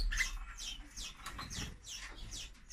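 Several canaries chirp close by in a series of quick, bright, sweeping tweets that overlap with brief gaps. Faint background rustle sits beneath them, and no one is speaking.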